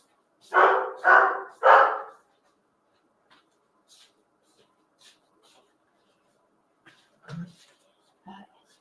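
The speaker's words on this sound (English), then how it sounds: "She never starts barking first." A dog barks three times in quick succession, loud and close, followed by quiet stretches with a few faint clicks and two short, softer yips or vocal sounds near the end.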